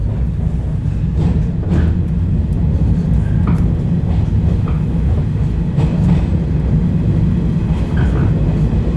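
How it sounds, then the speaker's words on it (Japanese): A local series 115 electric train pulls away with a loud, steady rumble and scattered clattering and knocks throughout, heard from on board. "まもなく発車いたします。"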